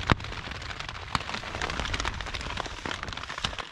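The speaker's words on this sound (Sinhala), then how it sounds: "තාම වැස්සේ වෙරුන්නේ නැහැ." Rain falls on a campsite at Wangedigala during a thunderstorm, a steady patter with scattered sharper drops hitting close by and a few brief louder taps.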